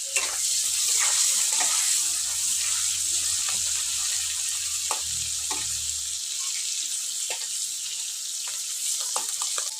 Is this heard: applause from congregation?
no